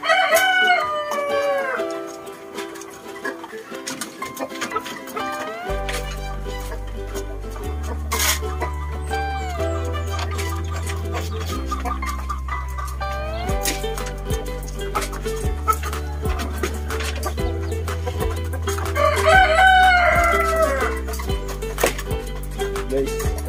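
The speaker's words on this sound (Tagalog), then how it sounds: "Maraming sisiyo natin oh." Chickens and small chicks call near a poultry coop while a rooster crows in rising, drawn-out cries at the start and again later, all over steady background music.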